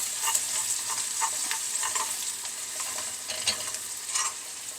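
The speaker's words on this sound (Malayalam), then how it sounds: "ഇതൊന്ന് മൂത്തോട്ടെ ഈ ഉള്ളി" Onions frying in sesame oil with a pinch of asafoetida for a bitter gourd pachadi: a steady soft sizzle with occasional brighter crackles and stirring scrapes, fairly quiet and close, with no talking.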